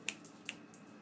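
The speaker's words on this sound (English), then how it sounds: "You snap your fingers." Two crisp finger snaps spaced about half a second apart, close and fairly quiet, made to catch a pet's attention indoors, followed by a fainter third click against a low room hum.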